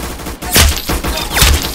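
Gunfire from a grease gun in the Roblox game Arsenal, two short loud bursts of shots separated by a brief lull, with steady game background noise underneath.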